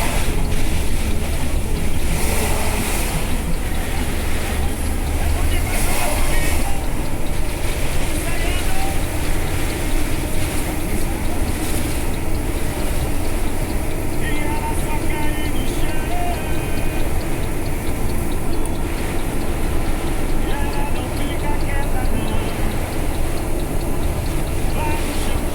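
Heavy rain and strong wind roar steadily around a vehicle driving on highway BR-116, a loud, unbroken wash of noise lasting the whole stretch.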